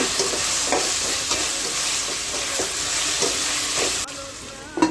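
Chopped tomatoes go into frying chicken gravy with parsley, a steady close hiss of sizzling oil under periodic scrapes of a stirring spoon against the pan.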